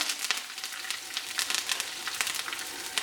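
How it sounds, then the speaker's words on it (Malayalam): Curry leaves sizzle in hot oil while a Kerala-style kumbalanga (ash gourd) kootu curry is cooked, a close, steady crackling fry with rapid bright spits and pops throughout and no talk. "കറിവേപ്പില ചേർത്ത് കൊടുക്കുക"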